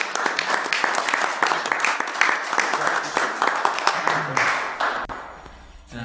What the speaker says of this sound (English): So I think a round of applause is in order